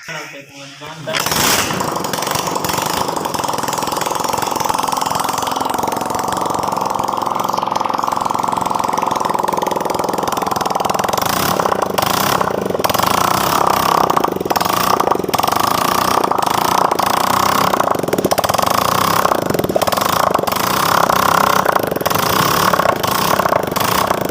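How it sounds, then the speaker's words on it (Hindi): A Honda CG125 motorcycle engine runs after new piston rings are fitted, a loud steady idle with a brief start-up burst at the beginning, then continuous close chugging with occasional revs; someone talks over part of it. "अब हम लोगों ने मोटरसाइकिल इंजन को जो है स्टार्ट करके चेक कर लिया है"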